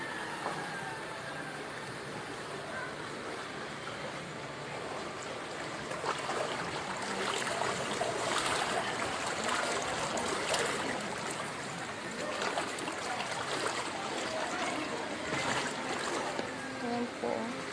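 Floodwater from Typhoon Carina rushes steadily and loudly, a broad churning flow that swells in the middle, with faint voices in the background.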